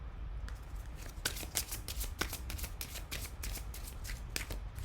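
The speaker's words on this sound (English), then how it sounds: "I'm going to go ahead now and pull a Golden Nostradamus card" Golden Nostradamus oracle cards being shuffled and pulled, a steady run of crisp, close riffling snaps over low background hum, with no talk.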